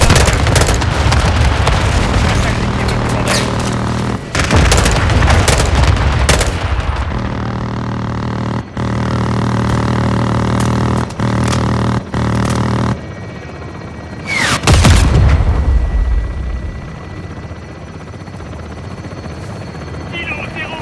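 Call of Duty Modern Warfare 2 air support strike: a loud helicopter drone runs throughout, broken by bursts of heavy gunfire and booming explosions, with a big blast near the end before the rotor hum settles.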